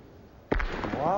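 At a petanque semi-final, a thrown boule smacks into another with a single sharp metallic crack, heard at moderate distance, followed by crowd noise and a commentator's voice.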